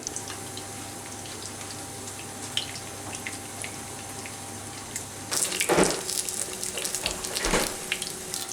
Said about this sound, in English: did you hear that sizzling sound?